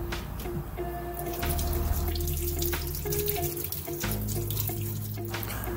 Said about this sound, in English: I'm going to wash my carrot and I'm going to peel it.